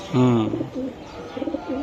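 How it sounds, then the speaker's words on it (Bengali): Racing club pigeons at a breeding farm give a loud, close coo, followed by softer repeated cooing calls, with faint voices in the background. "ক্লাবের কবুতর"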